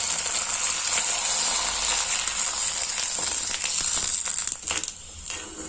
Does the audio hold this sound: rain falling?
no